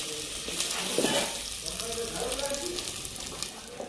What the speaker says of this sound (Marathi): कांदा आणि खोबरं भाजून घेऊ मस्त.